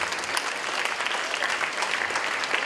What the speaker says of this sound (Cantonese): 請大家俾啲掌聲俾負責錄影嘅小寶同埋負責燈光嘅歐莎。